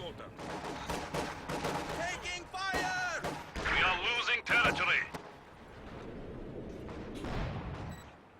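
M42 anti-tank gun firing in Company of Heroes 2, sharp gunshot bursts among layered battle noise, with a commentator talking over the game action.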